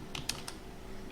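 A few quick keystrokes tap out a search query on a computer keyboard, three or four light, close clicks in a short burst with no voices.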